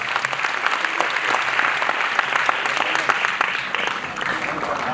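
Audience applause at a drug awareness event in Gujarat: a dense, steady roar of many hands clapping that fills the full five seconds at an even, loud level.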